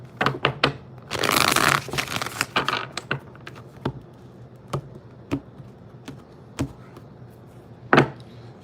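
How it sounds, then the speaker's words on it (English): A deck of tarot cards being shuffled gives one dense riffling burst early on, followed by scattered crisp taps and shuffles of cards, close and fairly loud, with no talking. "One more shuffle."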